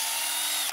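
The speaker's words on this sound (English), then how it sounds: "you want to drill into the tree about, they say 3 inches" A power drill bores a tap hole into a maple tree, whirring loudly and steadily for most of a second before abruptly cutting off.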